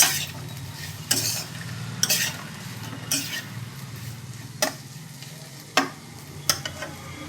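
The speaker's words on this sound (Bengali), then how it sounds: "অর্ধেক ভাজা হওয়ার পরে আমি নুনটাকে দিচ্ছি" Potatoes and pointed gourd sizzle steadily in a frying pan, with a spatula scraping and clinking against the pan every second or so, close and loud, with no talk.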